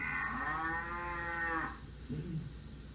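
A cow moos once, a long, loud low call lasting over a second and a half, then a short softer grunt follows.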